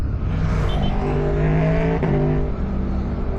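Motor vehicles in Albanian traffic heard from a motorcycle, with a steady close engine drone and rising, shifting engine tones throughout, plus a brief sharper burst midway.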